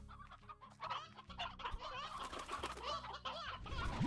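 Hens clucking in a farming video game, a steady stream of overlapping clucks and squawks at moderate loudness with game background sounds beneath and no speech.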